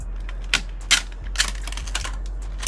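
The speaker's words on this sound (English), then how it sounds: "We're going to try to just make a handle out of the packing tape." Packing tape is handled to form a handle during a BMW E92 M3 side marker job, heard as scattered close crackles, sticky peels and taps in irregular bursts over a steady low hum, with no talk.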